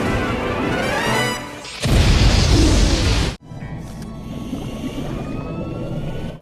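A homing missile launches and detonates in an animated spy racing film: a loud rushing blast, an abrupt cut into a dense roaring explosion, then a lower rumbling aftermath with a faint whine, with no one speaking.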